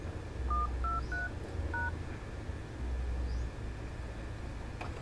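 Touch-tone keypad beeps on a mobile phone while dialing a Smart SIM code, five short distinct tones in quick succession over a low steady hum, with no voices.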